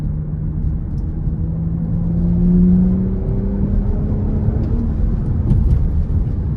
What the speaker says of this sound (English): It's not easy to make a V6 sound good. Audi does a pretty good job with that.